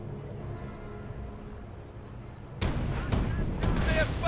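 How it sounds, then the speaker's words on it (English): Canister shot firing in Company of Heroes, a sudden loud blast that breaks over a low battlefield rumble and carries on as a sustained, crackling burst of gunfire. "Canister shot, that's the name of that shot,"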